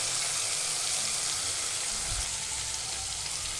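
Poppy seed paste hits a hot pan in a steady, close sizzle with a broad hiss that holds without a break and has no talk over it.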